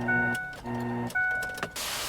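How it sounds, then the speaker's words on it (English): A Ford 500 cranks on a start attempt just after a new alternator is fitted: close, whirring starter bursts with steady tones, broken by short pauses, with no sign of the engine catching. "Crank her up."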